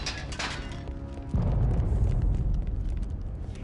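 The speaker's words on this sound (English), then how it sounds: "That was a great explosion." A deep explosion booms in the video game Star Wars: Republic Commando, a heavy low rumble bursting in after a quieter stretch and rolling on loud to the end.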